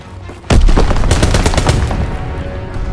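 Flak guns fire in Call of Duty: WWII during a domination match on the Shipment 1944 map. Rapid, loud bursts of gunfire start abruptly and keep hammering in a steady rolling stream, with no talking.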